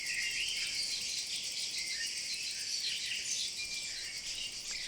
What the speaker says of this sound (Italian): È una rarissima cavalletta carnivora delle praterie aride.